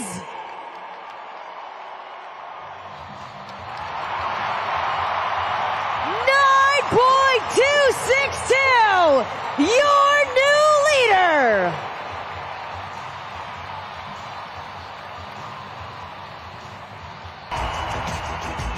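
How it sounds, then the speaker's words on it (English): A stadium crowd at the Monster Jam World Finals monster truck event roars and cheers, swelling in the middle with loud whoops and shrill rising cries, all under an announcer's ongoing commentary. "the crowd is still getting loud as we continue on."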